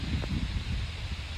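Strong wind blows across an open farm with mountains in view, a dense steady roar buffeting the microphone with low rumbling gusts and no talk.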